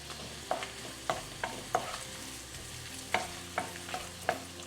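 Onions sauteing with three red chiles in a pan: a continuous soft sizzle punctuated by about eight crisp spatula taps and scrapes at a loose, uneven pace.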